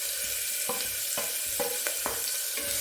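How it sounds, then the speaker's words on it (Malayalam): Sliced onion, garlic and ginger fry in a pan with a steady sizzling hiss, broken by several brief clinks and scrapes of a utensil against the pan. "അതിലേക്ക് നമുക്ക് ഈ സവാള ഇട്ടു, വെളുത്തുള്ളി ഇഞ്ചി ഇട്ട് കൊടുക്കാം."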